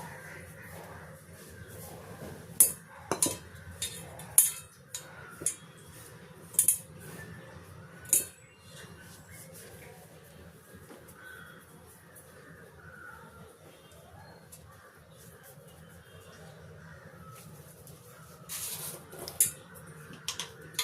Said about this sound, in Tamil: இதை கொஞ்சம் கொஞ்சமாக ஊற்றி நம்ம மிக்ஸ் பண்ணிக்கலாம்.